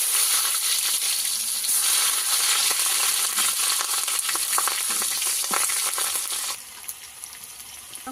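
Chopped onions and five-spice seeds hit hot oil in a pan for a Bangladeshi dried-fish curry with potato, eggplant and beans, a loud continuous sizzle with crackles and pops that drops to a quieter fry near the end.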